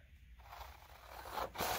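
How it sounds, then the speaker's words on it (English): Scissors cutting a sheet of paper for a folded shape, a quiet close rasping snip that builds into a couple of brisk cuts at the end, with no talking. "Then we take our scissors and we cut"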